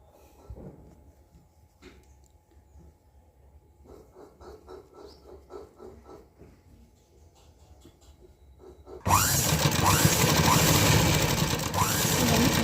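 A sewing machine stitches hooks onto the back of a crop top, first in soft, uneven bursts of stitching, then a loud, continuous close-up whir for the final few seconds.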